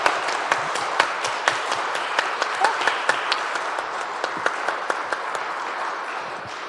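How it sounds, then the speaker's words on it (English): An audience at a Ward 9 candidate forum gives the candidates a round of applause, sustained clapping with distinct individual claps popping out, gradually thinning toward the end. "let's give a round of applause to our candidates"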